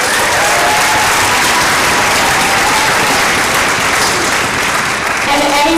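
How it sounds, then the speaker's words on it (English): Loud, sustained applause from a large audience at an honor orchestra performance fills the hall as the drum-set player is recognized, with dense clapping and crowd noise holding steady throughout. "Please give him a big round of applause."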